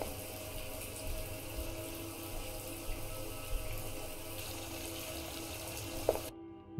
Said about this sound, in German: Okay, das Wasser lassen wir auch laufen.